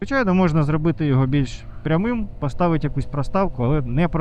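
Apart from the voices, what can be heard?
None of the usual background noises is heard.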